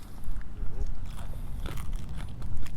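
Crunchy bites and chewing of a crispy, slightly overcooked taco-like snack at a 4WD beach outing, several crackly crunches close up over low background rumble.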